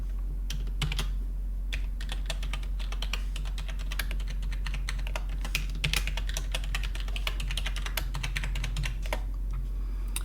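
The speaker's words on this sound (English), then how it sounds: "this is where the user would type in their new password" A new password being typed on a computer keyboard: a long run of fast, irregular key clicks over a steady low hum.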